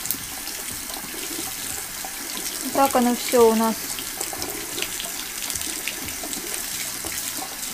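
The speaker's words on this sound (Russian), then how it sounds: "Итак, я включаю горячую воду, прям горячую." Hot water runs steadily from a tap onto artificial hair in a sink, a soft continuous hiss with someone speaking briefly over it midway.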